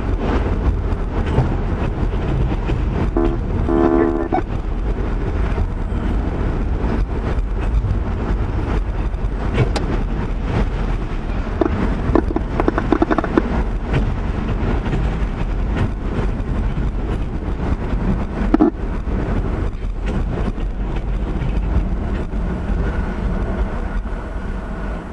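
A short Pan Am Railways freight train rumbles past close by, a steady loud roar of wheels and engines lasting throughout with no talking.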